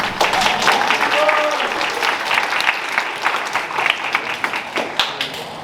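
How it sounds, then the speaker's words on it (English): Audience applause at a cross country senior night banquet, a room of people clapping in a full, uneven patter with some individual claps standing out, moderately loud and close, with faint voices mixed in. "So I guess a small round of applause for that."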